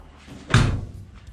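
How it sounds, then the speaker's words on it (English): The door of an old, long-stored Dodge D100 pickup truck closes once with a solid, close thunk, then quiet. "Doors close nice."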